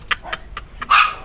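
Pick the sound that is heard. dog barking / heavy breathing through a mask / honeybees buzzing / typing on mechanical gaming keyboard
dog barking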